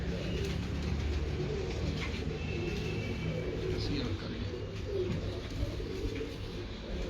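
Pigeons coo in soft, repeated low calls over steady background noise and murmuring voices, with occasional faint chirps mixed in.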